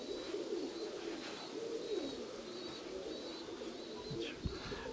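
Close, steady cooing from domestic Nikolaev pigeons rolls on in repeated low phrases, with light chirps above and a single soft thump near the end.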